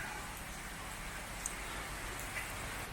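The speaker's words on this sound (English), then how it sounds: "Now it's raining again." Steady rain falling in Kampot, Cambodia, a dense even hiss with a few faint drips, constant and moderately distant throughout.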